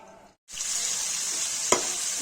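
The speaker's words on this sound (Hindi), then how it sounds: "कलेजी फ्राई हो रहा है" Mutton liver (kaleji) fries in hot oil, starting with a short quiet gap and then a loud, steady, bright sizzle that runs to the end, broken by one sharp utensil tap.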